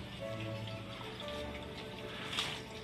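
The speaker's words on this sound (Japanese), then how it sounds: "ちょっと、 小ぶりの雨がね、朝からね、降ってるわけやけど" Light rain falls outdoors on a morning, a faint, steady patter with soft scattered drops and a low continuous hiss in the background, with no voices.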